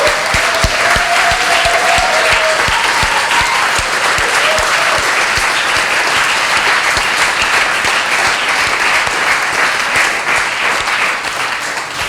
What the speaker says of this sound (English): Please give another round of applause for Marion Reed